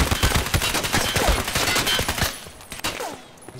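Rapid automatic gunfire in Escape from Tarkov rattles loud and close for over two seconds, then breaks into a few scattered shots.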